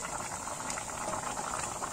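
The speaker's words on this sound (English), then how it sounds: "we pour in our blended pepper into the beans" Blended pepper pours into a pot of simmering Nigerian stewed beans, giving a steady bubbling, liquid hiss that holds even throughout at moderate loudness with no voices.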